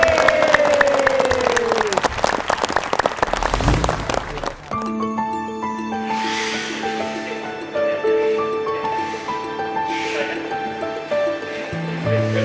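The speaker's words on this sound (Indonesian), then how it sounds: "Kasih tepuk tangan dulu." A television studio audience claps for several seconds at the start, then the applause gives way to a musical sting with sustained tones.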